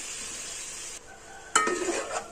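Eggplant pieces frying with onions and garlic paste in a pan are stirred, a steady sizzle at first, then a sudden louder burst of scraping and crackling as the spoon works through the vegetables, close and alone.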